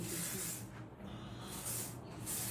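Short hissing bursts from a spray can, three separate blasts close to the microphone, with no talking.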